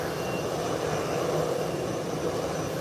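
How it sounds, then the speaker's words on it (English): Beechcraft 1900 twin-turboprop airliner at Howard Hamilton International Airport, engines running steadily before takeoff, a constant moderately loud whine and drone heard from outside. "this Beechcraft 1900 is about to take off"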